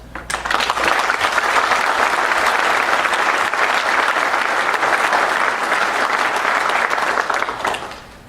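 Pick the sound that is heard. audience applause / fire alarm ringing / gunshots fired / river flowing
audience applause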